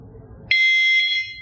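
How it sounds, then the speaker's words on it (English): A remote beeper training collar for a hunting dog lets out a single loud, sharp electronic beep that holds steady for most of a second before stopping, close by with quiet background. "but once I stop, the collar will start to beep every 2 seconds."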